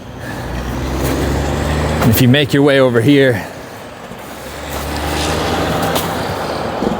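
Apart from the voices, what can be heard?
car and truck traffic on a secondary highway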